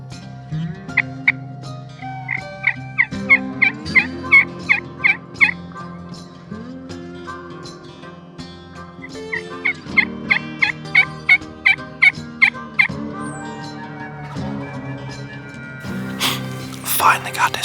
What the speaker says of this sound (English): Finally got this bird to gobble one time.